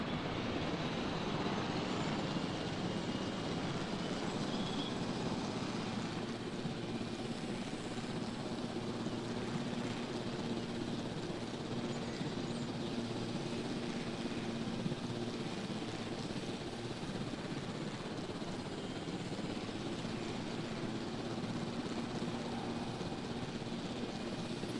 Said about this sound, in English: gonna go ahead and take the chopper for a spin.